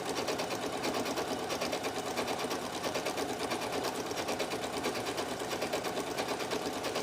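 A sewing machine stitches quilting on a trapunto cushion at close range, giving a continuous fast mechanical whir and needle rattle at a steady even pace for the whole stretch.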